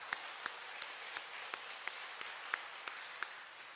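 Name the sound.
church congregation clapping in encouragement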